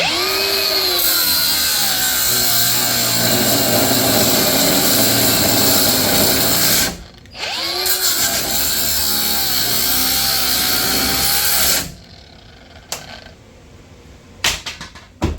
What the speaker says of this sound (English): Now that I roughed it out with the grinder just to keep my line straight